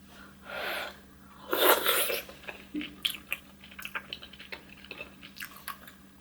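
Spicy tteokbokki eaten up close at a mukbang table, with soft wet chewing, squishy bites and a sharp sniff or gasp early on, then a run of small quiet mouth clicks and smacks.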